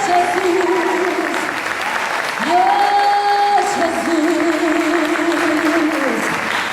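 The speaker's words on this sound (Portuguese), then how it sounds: "Aplaude! É o nosso Salvador, Jesus!" Congregation applauding during a church worship service, a steady loud wash of clapping throughout with sustained music or singing tones running beneath it.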